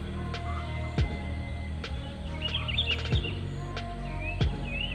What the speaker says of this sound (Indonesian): suara-suara burung kutilang yang berbunyi di daerah sini.